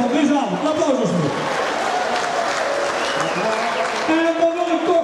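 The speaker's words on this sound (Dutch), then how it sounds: "Applaus alsjeblieft." An audience applauds at an evening event, continuous clapping under a speaker's voice that is heard at the start and again near the end.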